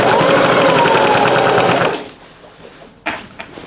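Sewing machine stitching along the seams of a fabric machine cover, a loud rapid mechanical whir of fast needle strokes for about two seconds, then stopping, followed by a few quiet handling clicks.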